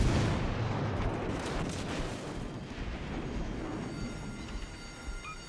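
Ship guns in World of Warships boom in a heavy, continuous rumbling barrage that slowly fades over several seconds, loud and close, with faint high tones near the end.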